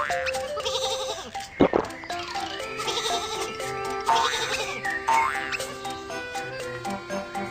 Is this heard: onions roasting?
no